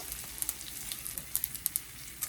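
Red chillies sizzle in hot oil in a pan while lemon rice is being tempered, with a steady soft frying hiss and scattered sharp crackles and pops, close up and without talk.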